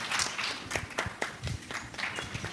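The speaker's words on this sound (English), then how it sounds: "can we please give a big round of applause for Dr. Shanavas?" Audience applause at a medical conference after a doctor's talk: a fairly quiet, steady patter of many hands clapping for a couple of seconds, with a few sharper individual claps standing out.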